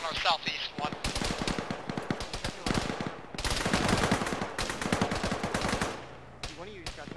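Loud automatic gunfire in the ArmA military game, rapid bursts and rattling volleys that carry on for several seconds, with players talking over the shooting.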